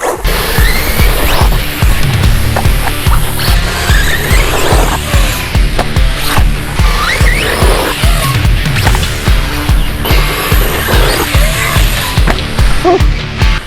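A ZD Racing MT16 RC monster truck races around with a loud, steady high-speed electric whine and motor roar, broken by rough bumps, skids and clatters as it tumbles and lands on its wheels.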